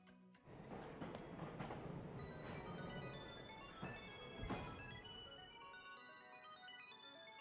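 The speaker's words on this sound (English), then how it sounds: "Train to the Isle of Armor has arrived." Train arriving at a station in the Pokémon Shield video game, a dense rumbling game soundtrack with chiming tones and a couple of clanking hits that settle into a steady hum.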